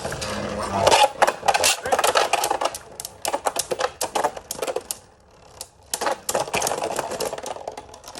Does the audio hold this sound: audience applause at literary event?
no